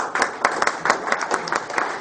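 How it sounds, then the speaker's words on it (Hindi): An audience at a corporate stage event for a projects company gives a burst of dense, close applause with many overlapping claps, steady and lively for the whole moment. "एक बार जबरदस्त तालियां सर के लिए।"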